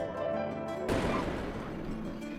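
A festival firework bursts with a sudden loud boom and a crackling, rumbling decay, following a steady background hum, with no voices.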